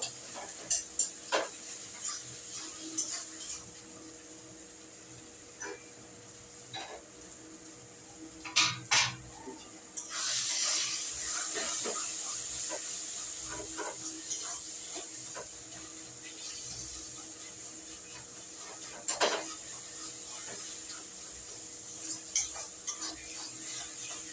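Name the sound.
stirring and mashing taro stolons (kochur loti) in a pan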